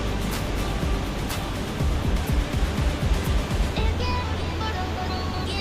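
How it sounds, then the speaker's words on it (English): Water from the Vanthawng waterfall pours from a great height in a steady, broadband rush, with a continuous roar that swells slightly midway, heard without talk. "the water was falling from very high"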